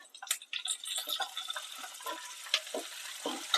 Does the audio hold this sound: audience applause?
no